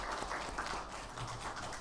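A church congregation claps for the choir during a Sunday worship service at Hanyang University Church, a steady, soft wash of crowd applause heard from a distance.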